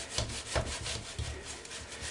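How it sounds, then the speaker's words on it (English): A brush scrubs back and forth over the shafts of a Singer Model 237 sewing machine with cleaning solution, a close, rhythmic rasping rub repeated several times. "I can scrub those shafts in there, and that whole inside of that upright"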